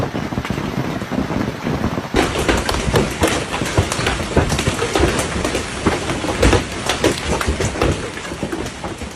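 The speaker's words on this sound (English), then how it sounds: "Shopkeepers swept up broken glass even as hail continued to pound outside." Hail pounds down hard during a massive hailstorm in Cagliari, a dense, loud clatter of stones striking surfaces that intensifies after a short lull and continues unbroken with scattered sharper hits.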